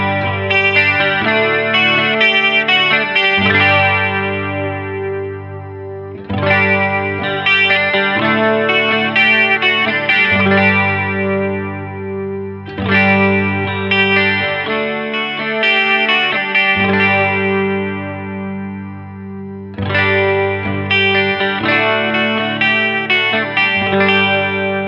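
Electric guitar through a Zakk Wylde chorus pedal, the high-cut control swept: four repeated strummed chord phrases, shimmering and sustained, each fading before the next, played alone and close.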